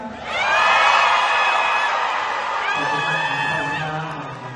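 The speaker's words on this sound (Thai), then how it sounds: "ขอเสียงกรี๊ดดังๆ อีกสักครั้งได้ไหมครับ" A large crowd screams and cheers loudly at a Thai music concert, high-pitched shrieks merging into a sustained roar that slowly fades.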